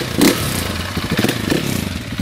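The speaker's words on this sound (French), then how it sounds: "Quel plaisir de reprendre ta moto" Motorcycle engine running during a ride, a steady close-up drone with a few louder surges and knocks, no voices.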